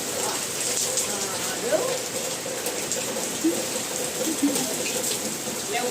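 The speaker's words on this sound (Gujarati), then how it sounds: "હું તમને ઉપરથી બતાવી રહી છું કેટલો વરસાદ પડી રહ્યો છે" Rain pours down in a steady, dense hiss, with scattered drips and splashes on nearby surfaces.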